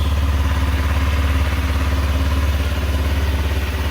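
A motorcycle engine left idling to charge its battery runs at a steady, close, loud level throughout with an even low throb and no talk.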